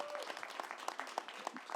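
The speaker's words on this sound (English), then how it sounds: "Can we give our mayor another round of applause for all that she does?" Brief applause for the mayor at a city agency briefing, a short burst of scattered, distinct claps from a modest audience, fairly quiet and sparse.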